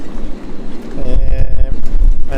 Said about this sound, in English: And it's getting really windy. It's like blowing 26 knots at the moment.